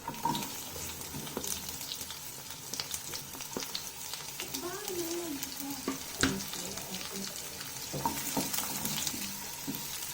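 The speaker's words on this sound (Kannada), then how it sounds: "ಇವಾಗ ಈರುಳ್ಳಿ ಸ್ವಲ್ಪ ಫ್ರೈ ಆಗೋವರೆಗೂ ನಾನು ಬಾಡಿಸ್ಕೊತೀನಿ." Chopped onion frying in a pan for egg rice, with a steady sizzle and occasional scrapes and clinks of stirring, close and continuous throughout.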